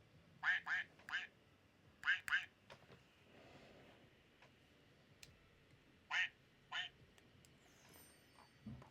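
A small duck toy wearing a Christmas hat quacks in short bright pairs and triplets, spaced across the moment over a faint murmuring background.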